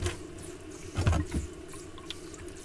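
Water runs and splashes in a kitchen sink while dishes are washed, a steady close trickle with a few louder sloshes, no voices.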